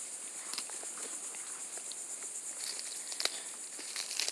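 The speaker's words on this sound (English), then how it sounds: "And those insects you hear are cicadas." Cicadas buzzing outdoors among Brazilian pepper shrubs, a steady high-pitched drone with a few faint rustles and footstep-like patters beneath it.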